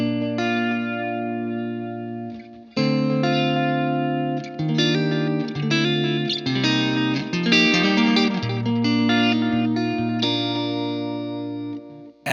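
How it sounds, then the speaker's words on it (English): Sustained electric guitar chords and notes through an analog delay with a hint of modulation ring out with echoing repeats and a gentle wavering shimmer, loud and continuous with no talking. "This is the analog delay, just a hint of modulation."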